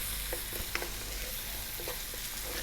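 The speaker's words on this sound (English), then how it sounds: "Give it a stir every now and then" Tomato being stirred into avocado shakshouka in a frying pan, a soft steady sizzle with a few light spatula scrapes and taps, brief and fairly quiet.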